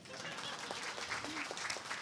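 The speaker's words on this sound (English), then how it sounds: "We're going to clap anyway because they'll watch it later." Audience applause at a Law Day luncheon keynote, a steady wash of many hands clapping at moderate volume throughout, with no pauses or talk over it.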